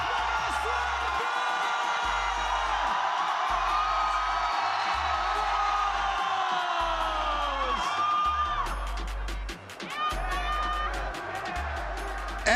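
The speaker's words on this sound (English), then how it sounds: "Everybody wanting a piece of the action on stage, rallying this crowd." A large arena crowd at a VALORANT Masters Santiago playoff esports match cheers and whoops in a dense, continuous roar, with individual yells rising out of it and a loud thumping beat underneath.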